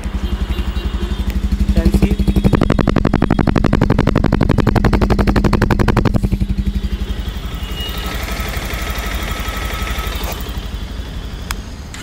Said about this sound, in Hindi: तो ये बाइक का एग्जॉस्ट नोट है